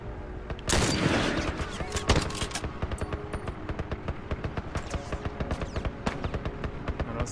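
Dense gunfire from The Last of Us video game plays loud and continuous. A heavy burst opens it, followed by rapid repeated shots that keep up a steady rattling rhythm throughout.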